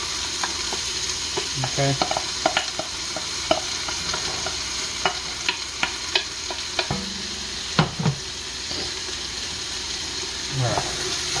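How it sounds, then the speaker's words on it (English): Vegetarian chilli ingredients tossed into hot oil, a loud continuous sizzle with clattering stirs and knocks against the pot, and a short spoken word partway through. "my oil has gotten nice and hot. Now I'm going to throw everything in."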